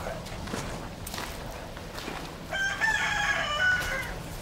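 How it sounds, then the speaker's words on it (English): A rooster crows partway through, its call rising over a steady outdoor background with faint scuffing; a few soft clucks may be mixed in. "I hear some other livestock. Yeah, I got roosters or hen chickens."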